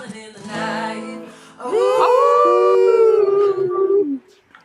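A person's voice imitating a coyote howl, one long, loud, sustained wavering wail that rises and then drops off at the end, preceded by a shorter vocal lead-in.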